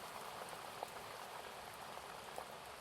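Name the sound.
rain calming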